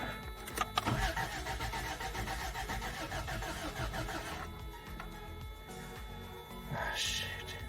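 Toyota 22RE four-cylinder engine, freshly rebuilt with a new head and cam, cranks in a steady rhythmic churn for several seconds, then catches and settles into a running idle, close up.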